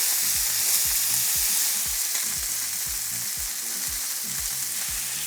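Lamb chops pan-seared in a frying pan give off a loud, steady sizzle that fills the whole stretch, with soft low thumps from the pan repeating underneath, close up and with no voices.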